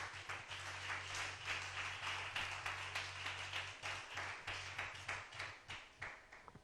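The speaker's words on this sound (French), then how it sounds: "On acclame le Seigneur Jésus." A church congregation applauds steadily in dense rhythmic clapping over a sustained low organ or keyboard drone, the claps close and continuous for the whole stretch.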